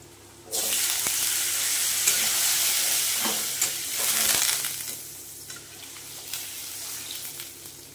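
Spiced potatoes are sizzling in a pan as water is poured in, and a loud steady hiss rises, swells and then settles while stirring scrapes continue close by.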